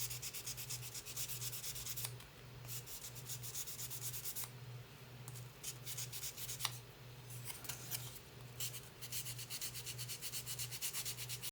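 Sandpaper rubs back and forth across a wooden bench insert in steady strokes with a few short pauses, close but quiet, over a constant low hum.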